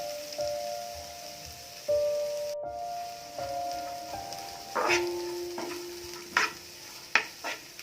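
Field bean sprouts (birda) with chilli sauté in a pan, giving a low, steady sizzle. A spatula scrapes and taps repeatedly against the metal, the knocks growing sharper toward the end, and no one speaks.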